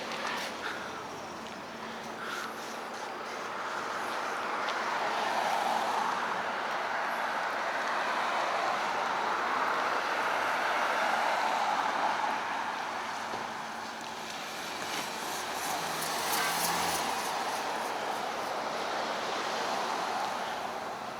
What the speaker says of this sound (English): there's a car riding straight at me